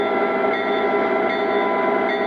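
An O gauge model EMD SD38 locomotive pulls forward with its train, producing a constant near, humming drone with a thin whine that stays even throughout.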